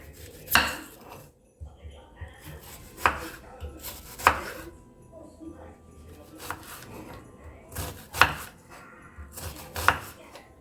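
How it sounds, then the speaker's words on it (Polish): A knife chops an onion into dice on a board, sharp distinct knocks in an irregular rhythm, close and fairly loud against a quiet kitchen. "Teraz cebulę kroję w kostkę."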